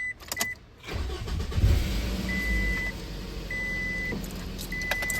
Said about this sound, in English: now let's check if the car actually runs